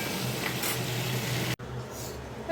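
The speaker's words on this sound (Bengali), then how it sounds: "এই যে ঝোলের জন্য মাছটা ভেজে নিচ্ছি" Fish fries in hot oil for a curry, a close continuous sizzle that breaks off sharply for an instant and then resumes more quietly.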